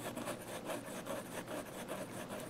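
A fountain pen nib scratches steadily across paper while drawing, a soft, close rasp in rhythmic strokes with no talking.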